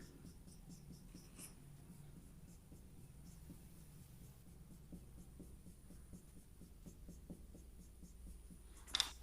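Marker or chalk writing on a classroom board during a biology lecture, faint rhythmic strokes and squeaks running steadily under quiet room noise, with a sharper tap near the end.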